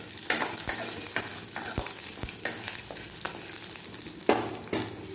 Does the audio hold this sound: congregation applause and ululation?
no